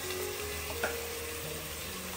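Chicken sukka cooks in a pan on a rural wood-fired chulha, giving a steady, continuous sizzle and frying hiss with an occasional faint pop.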